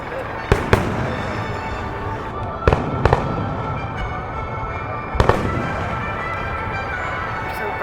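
Fourth of July fireworks over Washington DC: a continuous rumble of distant bursts and crackle, punctuated by several sharp, loud booms at intervals, with a crowd faintly audible underneath.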